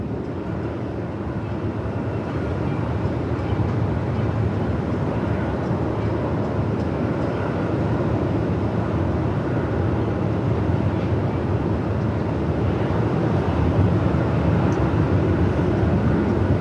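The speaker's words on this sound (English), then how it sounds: "Another 737-800 operating this one in from Tassie" A Boeing 737-800 airliner arriving from Tasmania at Melbourne Airport in strong winds over 45 knots: a steady low jet rumble mixed with gusty wind noise, continuous and moderately loud.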